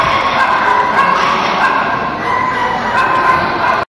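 At a free rabies vaccination event in Bacoor City, many dogs bark and yip in a dense, steady chorus with some whimpers, loud and continuous, and a voice can be heard faintly in the background.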